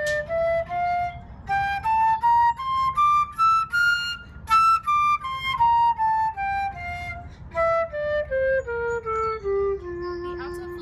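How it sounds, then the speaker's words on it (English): A C flute plays a smooth scale of separate notes climbing then descending, clear and close, with steady breathy tone. "The C flute sounds like this."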